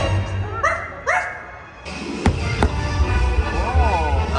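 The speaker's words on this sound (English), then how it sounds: "Where is that dog?" A dog barks and yips in a theme-park Halloween party show: two quick high-pitched yaps, then loud show music and effects follow.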